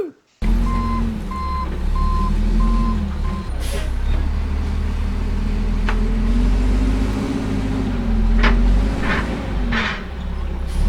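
A truck backing up with evenly spaced reversing beeps and a rumbling, droning engine, loud and close, used as a sound drop, followed by air-brake hisses and sharp mechanical clanks.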